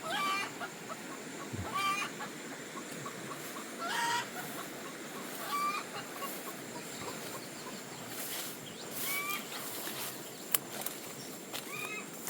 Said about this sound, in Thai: ไก่บ้านก็คือไก่ป่าเพราะว่าก็ปล่อยอยู่ป่านะกลางคืนมันจึงกลับมานอนอยู่อยู่คอก